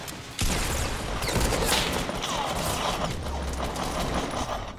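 Gunfire in the Fortnite Battle Royale game erupts after a short silence, then rattles on as a dense, continuous volley of rapid shots, loud and close throughout.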